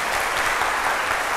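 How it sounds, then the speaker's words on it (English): A conference audience breaks into dense, steady applause after two former prime ministers are introduced, a short, even burst of many hands clapping. "So can we all give them a big round of applause?"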